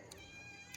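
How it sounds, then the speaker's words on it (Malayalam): A kitten gives one short, faint, high meow nearby, with a soft click on either side of it. "പൂച്ചക്കുട്ടികളെ നോക്കണം."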